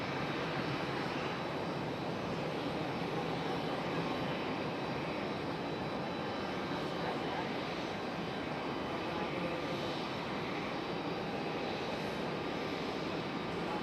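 A Southwest Airlines jet arriving at Raleigh-Durham International Airport, its engine roar filling the air as a steady, loud broadband rush that holds throughout without any talk.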